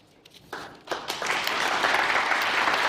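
Applause builds from scattered claps to a full, steady roar from a conference audience after a political speech line, sustained and fairly close.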